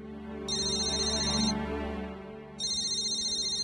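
A mobile phone left behind in an office rings with a bright electronic ringtone that plays for about a second, pauses briefly, then starts again over a quiet room.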